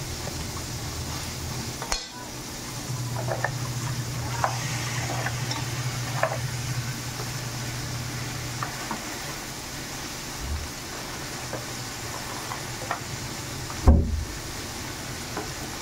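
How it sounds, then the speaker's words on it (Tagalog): Carrots and cabbage stir-fry with chicken in a pan for a noodle dish, a soft steady sizzle with occasional scraping stirs and a couple of sharp clanks of the utensil. "Maglagay na tayo ng ating gulay. Una natin yung ating carrots at repolyo."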